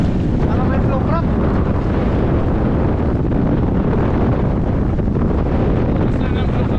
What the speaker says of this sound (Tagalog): Oo, Hangin. mahangin o.